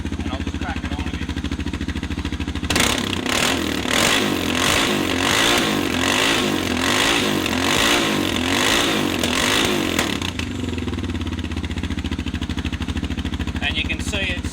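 A motorcycle engine with a standard DG muffler idles, then revs hard and loud for several seconds with a pulsing, throbbing roar before dropping back to a steady idle.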